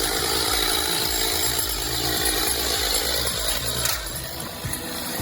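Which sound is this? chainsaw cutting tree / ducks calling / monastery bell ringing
chainsaw cutting tree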